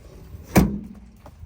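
An old station wagon's door slams shut once in a junkyard, a single solid thud close by with a faint rattle after.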